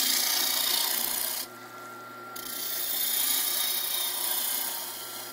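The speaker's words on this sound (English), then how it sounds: "I'm going to grab my roughing gouge. I'm going to start near the middle" A roughing gouge cuts a wood peppermill blank spinning on a lathe, giving a loud, continuous rasping hiss that dips briefly as the tool lifts off, then resumes steadily.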